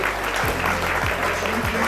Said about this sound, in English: Big old round of applause for you.